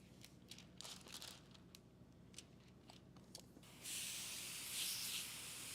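A spray bottle gives several quick hissing bursts of water during car window tinting on a Focus RS, followed by a longer, steadier spray, close by and fairly quiet.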